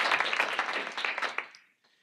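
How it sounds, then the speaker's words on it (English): An indoor audience applauds volunteer coaches at a youth training camp's opening-day event, a dense burst of many hands clapping that thins and fades out after about a second and a half. "Let's give them a round of applause also."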